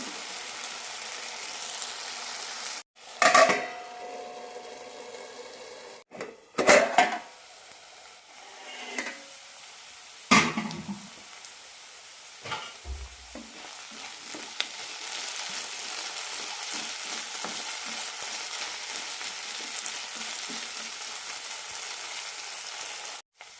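Potatoes sauté in a pan for a potato stir fry: loud clattering stirs and scrapes come in bursts early on, then settle into a continuous even sizzle.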